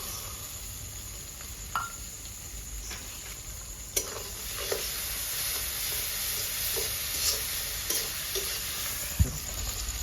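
Chopped ginger, garlic and green chillies fry in hot oil for a village-style chicken curry, giving a constant close sizzle with occasional light taps and stirring scrapes.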